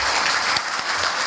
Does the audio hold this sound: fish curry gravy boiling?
no